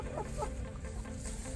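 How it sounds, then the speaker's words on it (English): Clucking from an Americana rooster on a farm, soft repeated low calls set against steady background noise. "we right now have 2 Americana roosters"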